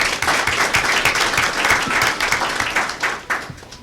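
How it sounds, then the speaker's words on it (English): An audience at a county school board meeting claps for honored schools, a dense, steady round of applause from a roomful of people that carries on for several seconds and then tapers off near the end. "Let's give them a round of applause"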